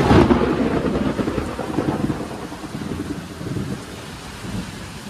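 Rain arrives with thunder during a long-distance cycle ride in Assam: a loud, low thunder rumble at the start eases into a steady, close hiss of heavy rainfall, with no voices.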